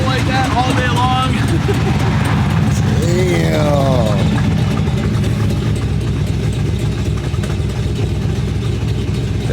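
A twin-turbo Chevrolet Malibu engine idles with a steady, close low rumble, while someone talks over it and a high whine briefly sweeps near the start.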